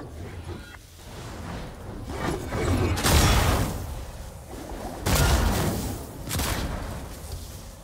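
Gunfire in the Fortnite video game, several bursts of booming shots and blasts a few seconds apart over a noisy background.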